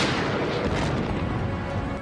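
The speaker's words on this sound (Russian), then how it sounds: "Выстрел!" A 45 mm gun fires a cannon shot in a war film, a dense, heavy booming blast that fills the short clip with rumbling noise.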